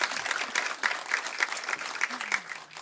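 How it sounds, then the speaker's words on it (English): A conference audience applauds a panel at a trade event, a short spell of moderate clapping with a few sharper individual claps, fairly distant in a large hall. "A warm applause, I would say,"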